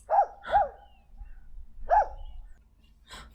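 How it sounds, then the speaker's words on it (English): A small fuzzy dog gives three short, high yapping barks spaced about a second or more apart, fairly close and moderately loud, with a quiet background between them. "Look, Huggy, a fuzzy little dog."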